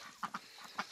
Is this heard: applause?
no